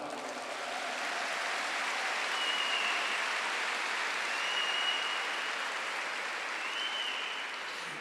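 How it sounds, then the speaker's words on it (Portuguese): Sustained applause from a church congregation at a Catholic worship service, a steady wash of clapping that fills the whole stretch at an even level, with no break and no voices over it. "aplaude essa palavra."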